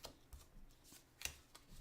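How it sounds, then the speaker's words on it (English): Game cards for the board game Machina Arcana are shuffled by hand, a quiet close series of soft riffling flutters and taps, with a sharper snap near the middle. "I'm going to shuffle these cards after."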